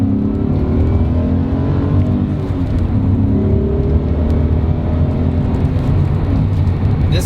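A BMW E39 M5 accelerates hard on a spring road drive, its engine note loud and steady from inside the car, a dense continuous roar rising gradually in pitch with no talk over it.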